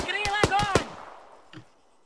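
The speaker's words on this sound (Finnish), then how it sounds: "Ei kun mua ammutaan täällä." Gunfire in the military video game Arma 3 rings out as a rapid burst of four sharp shots, with a voice over it, then a fainter single report trailing off.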